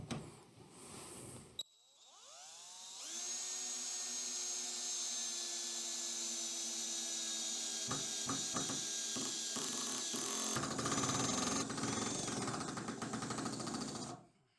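A cordless drill whirs steadily for several seconds driving a long screw into wood, its motor pitch sagging under load, with rattling grinding near the end, up close and loud.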